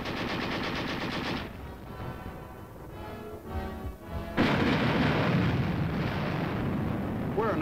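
Tank gun fire in an armored battle: a heavy, continuous roar of rapid firing and blasts. The sound drops to a quieter stretch in the middle, then returns loud and dense, close and sustained.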